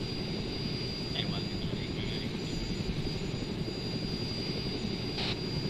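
Helicopter flying in the military video game Arma 3, a steady, loud rotor and engine drone that fills the whole stretch without letting up.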